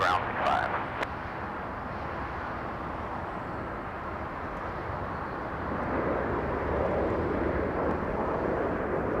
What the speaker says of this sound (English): The Spanish A330 now making the right turn on taxiway Echo